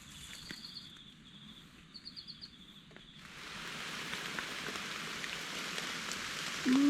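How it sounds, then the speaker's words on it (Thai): Rain falls while foraging for mushrooms outdoors: a light patter at first with faint bird chirps, then a steady, louder downpour hiss sets in and continues. "ฝนมาอีกแล้วครับ"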